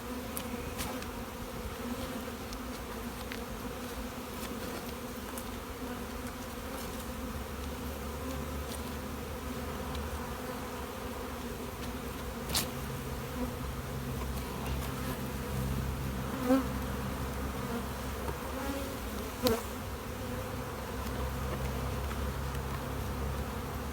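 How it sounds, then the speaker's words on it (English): Honey bees buzzing steadily around open hive boxes during a spring inspection, a dense continuous hum close by, with a few faint knocks and clicks of hive handling, no talk. "Not only is the top box full of bees, but the bottom box is full of bees too."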